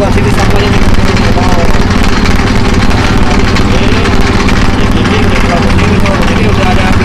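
A roadside sugarcane juice press machine engine runs loud and steady, a constant droning hum with people talking over it.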